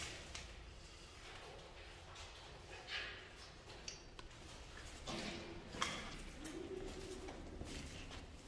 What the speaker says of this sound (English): There's a bird in it.